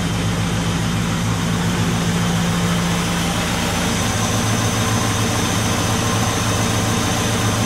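A classic Mini engine idles steadily at low revs, a smooth continuous rumble with a faint rhythmic pulse, close by and without any talking.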